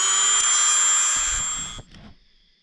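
A Dremel rotary tool cuts through a bearing race with a high, steady whine that winds down near the end, followed by a few light knocks.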